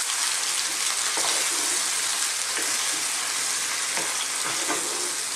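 Fresh squid cooking with vinegar in a pan for adobo in coconut milk, a loud continuous sizzle and hiss with a few soft stirring strokes scraping through it.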